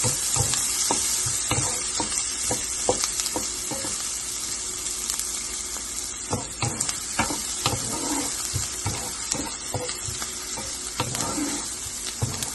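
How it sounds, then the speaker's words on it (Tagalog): Onions sizzle in a hot pan while being sautéed for tuna pasta, a steady close frying hiss broken by repeated sharp clicks and scrapes of stirring. "Ngayon po natin medyo mag-brown ang sibuyas bago natin ilagay ang kamatis."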